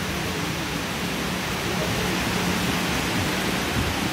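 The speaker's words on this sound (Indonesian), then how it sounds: "Tiba-tiba hujan." Sudden rain pours onto a street along Jalan Dr. Cipto in Bandung, Indonesia, a dense, even hiss of falling water that stays loud and unbroken the whole time.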